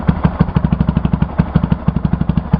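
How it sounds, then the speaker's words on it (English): A Yamaha BW200 motorcycle engine idling on choke after a cold start, up close with a loping, uneven putter, steady low thumps at a fast rhythm, heard on its own. "has kind of a nice sound on it when it's on choke."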